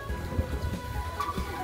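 Rain patters steadily in a dense, close wash of droplets, with a faint low rumble beneath and no voices.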